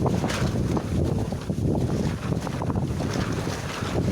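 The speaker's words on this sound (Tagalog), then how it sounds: "Malakas, malakas na yung hangin o par." Strong monsoon wind buffets the microphone in heavy rumbling gusts, with water sloshing and surf-like noise underneath throughout.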